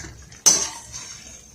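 Spoon scraping and clinking against a pan while stirring bread halwa with cardamom, one sharp clatter followed by a fading metallic ring, close and alone.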